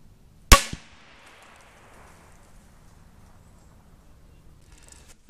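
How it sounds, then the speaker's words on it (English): A single loud rifle shot of a 212 grain Hornady ELD-X round striking an AR500 steel armor plate, a sharp crack with a quick metallic ring that decays over a second, then near silence. "we just shot it with those 212 grain Hornady ELDXs, and there is no penetration"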